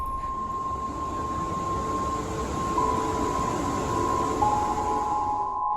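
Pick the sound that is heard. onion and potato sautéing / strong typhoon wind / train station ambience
train station ambience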